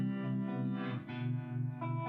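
Electric guitar notes through an amplifier's harmonic vibrato effect ring out with a wavering, pulsing vibrato, sustained and warm, two phrases with a short break between.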